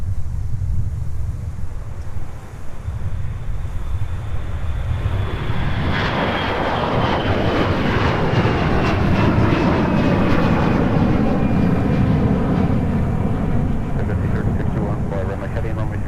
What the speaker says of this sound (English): here's our next departure off runway 30 left